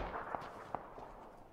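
Enemy gunfire in the battle royale game PUBG: two faint, sharp distant shots about 0.4 seconds apart over a low background hum, with no talking.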